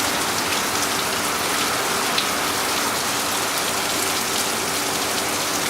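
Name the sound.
torrential downpour during a rain storm in Kosovo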